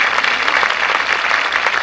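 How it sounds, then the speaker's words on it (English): An audience at a Sun City 30th anniversary event claps for an honoree, a dense, steady roar of applause from a crowd indoors. "You have to applaud all of them."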